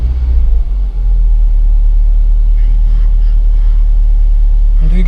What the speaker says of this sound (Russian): Ну и запускаем двигатель.